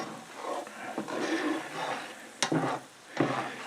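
Garlic warms gently in melted butter in a pan for garlic butter shrimp, giving a soft, low sizzle with occasional stirring scrapes and clinks close by.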